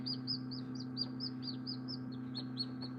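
A newly hatched chick chirping steadily in a rapid string of short high peeps over a constant low hum, close and alone without talk.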